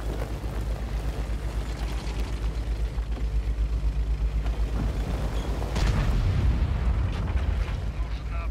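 Artillery in Order of War fires and lands in heavy, rumbling explosions, one after another, with a big low blast near the end, and a voice talks over the barrage.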